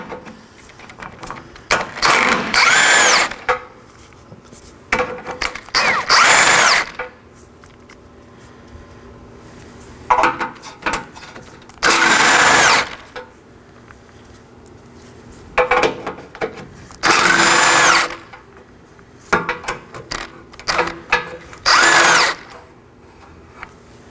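Power tool on 12mm nuts of a 2013-2019 Nissan Sentra front impact absorber bar, heard as repeated loud close bursts of whirring, about seven runs of one to two seconds separated by quieter pauses.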